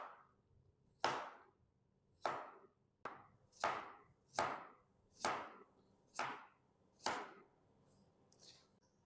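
Potatoes sliced thick with a knife for aloo katli, about nine crisp, evenly spaced chops on a board, close and fairly loud with quiet gaps between strokes.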